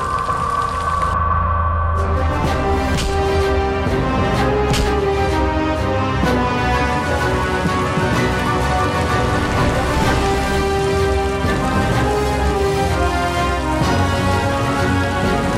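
Heavy storm rain pours down steadily and loudly for the whole stretch, a dense unbroken hiss with scattered heavier drops and splashes and no voices.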